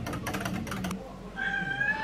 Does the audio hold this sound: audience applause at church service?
no